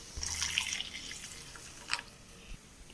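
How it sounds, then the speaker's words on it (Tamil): Boiled and cooled milk pours into a pan for makhana kheer, a soft liquid trickle with a few small splashes and one brief louder splash near the end, close and without talk. "இப்போ வந்து நம்ம எந்த கப்பில் மக்கானா மெஷர் பண்ணமோ அதே கப்பில் வந்து 2 கப் அளவுக்கு நம்ம பால் ஆட் பண்ணிக்கலாம்"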